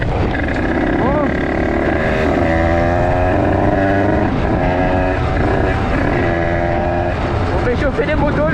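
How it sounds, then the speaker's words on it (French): Several motorcycles warming up, engines idling and revving together in a continuous loud drone with rising and falling pitch sweeps, with people talking over the engines throughout. "On fait chauffer les motos les gars."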